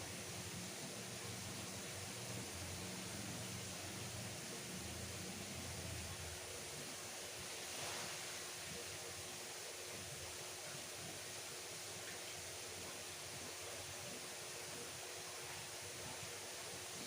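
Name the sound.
water being drained from a goldfish quarantine tank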